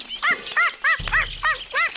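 A person imitates a dog's barking with six short, rhythmic yaps close to the listener, set against a brief low rumble, with no other talk.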